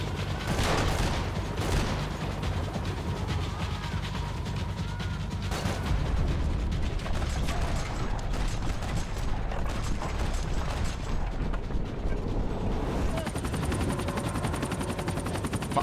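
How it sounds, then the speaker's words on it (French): A helicopter roars through sustained machine-gun fire in the video game Max Payne 3, a dense, loud, continuous din of rotor and rapid shots with mechanical clatter, no voices. "Un hélicoptère."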